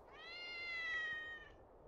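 A cat gives a single drawn-out meow, clear and tonal, rising slightly then tapering off, close and fairly quiet against a soft background.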